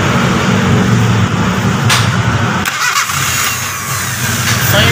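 A car engine is started directly through a starter motor wire, cranking and catching into a loud, steady idle with a slight rev, close up and continuous throughout.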